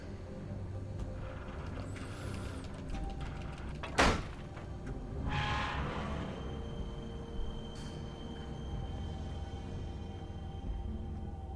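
A door opens in The Wolf Among Us video game, a sharp knock-like thump followed by a sliding, creaking swing over a low ambient hum, with a faint click afterward.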